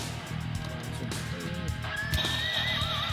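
A toy robot's combination sound effect plays a loud, close horse neigh and whinny, with a clip-clop rhythm under it and electronic tones rising near the end.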